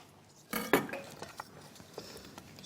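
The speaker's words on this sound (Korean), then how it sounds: "양파는 채 썰어 주시면 되는데 너무 곱지 않게" A knife cuts onion into strips for a bulgogi marinade on a kitchen cutting board: a loud knock and clatter near the start, then softer, irregular cutting taps close by, with no talking.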